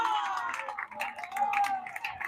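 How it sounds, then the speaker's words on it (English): Rowdy crowd at a college baseball game, Ventura versus Allan Hancock, cheering and clapping in a steady, full roar after a sacrifice bunt, with voices and shouts mixed in throughout. "The crowd is very rowdy today."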